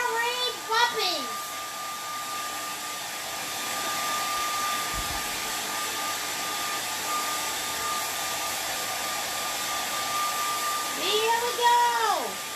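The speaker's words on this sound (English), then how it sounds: "I'm going to come over to my handy-dandy hairdryer." A handheld hairdryer blows a steady, loud whooshing stream of air with a constant whine to dry a peacock painting, switching on near the start and shutting off near the end, with a brief voice under it.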